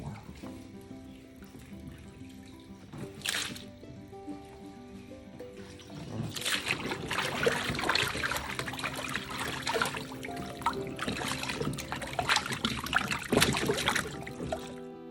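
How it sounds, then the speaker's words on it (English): Fresh fiddleheads are agitated by hand in a bowl of cold water, giving close sloshing and trickling that starts with faint splashes, then builds after a few seconds into steady, busy splashing that continues to the end. "put it into a clean bowl or bin of cold water, and then just agitate them"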